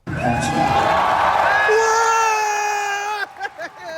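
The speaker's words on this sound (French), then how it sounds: "tout le monde applaudit, tout le monde est content, tout le monde crie" Cinema audience at a Spider-Man screening cheering and screaming together, a loud sustained roar with high shrieks that breaks off near the end into a few scattered voices.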